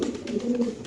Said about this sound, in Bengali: মোরাসেল কবুতর দেখতে পাচ্ছেন দর্শক আপনারা, একটা কালো একটা টাইগার